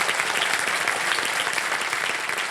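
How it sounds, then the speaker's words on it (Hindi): Audience applause on the KBC Season 16 game show set welcoming a contestant, loud dense clapping that holds steady throughout with no voices over it. "एक बार फिर से आपका हम स्वागत करते हैं तालियों के साथ"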